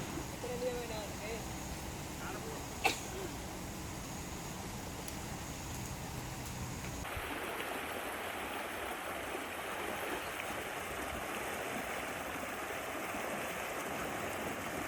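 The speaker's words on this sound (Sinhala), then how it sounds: "මේ මෙතන තියෙන වතුර පාර නම් මුළු අවුරුද්ද පුරාම තියෙනවා. මේ වතුර මේ කානුව දිගේ යන්නේ වගා බිම් වලට." Water flows steadily along an irrigation channel that carries a year-round stream to farmland, a continuous rushing wash that grows fuller and brighter halfway through.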